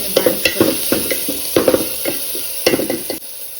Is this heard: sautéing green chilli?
yes